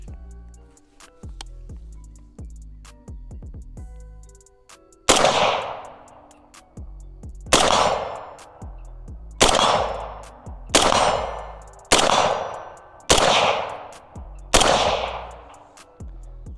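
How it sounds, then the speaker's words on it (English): A rifle with a muzzle brake fires seven loud, sharp shots spaced a second or two apart, each a hard blast with a ringing decay, after some quieter metallic clicks and handling at the start. "the muzzle brake on this thing puts off quite the blast"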